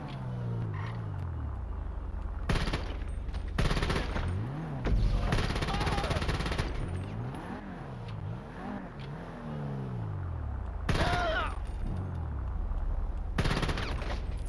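Tactical SMG fire in GTA 5 Online, rapid automatic bursts coming in separate loud blasts over a steady engine hum and revving vehicle noise, with gaps of droning road sound between volleys.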